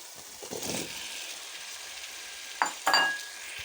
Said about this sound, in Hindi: फ्लेम तेज़ करके इन्हें थोड़ा सा भूनेंगे।